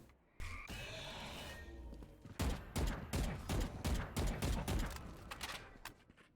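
Sharp, loud gunfire cracks from an Operator sniper rifle and other weapons in a competitive Valorant match, a dense run of repeated shots that is heaviest in the second half.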